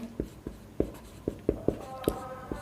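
Chalk or marker strokes on a board during a physics lesson, about eight sharp, evenly spaced taps and scrapes in a quick writing rhythm, close and clear over a quiet room.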